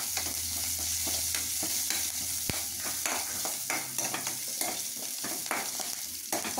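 Onions, dried chillies and curry leaves sizzle in hot oil while a spoon stirs them in a pan, giving steady frying hiss with repeated close scraping strokes and no talk.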